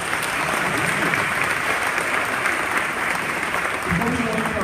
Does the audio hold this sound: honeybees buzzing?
no